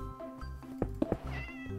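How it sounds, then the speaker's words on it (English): A Minecraft cat meows several times in quick succession, short tonal cries rising and falling over a steady background of game music, fairly close and clear with no talking. "Come on, little kitty."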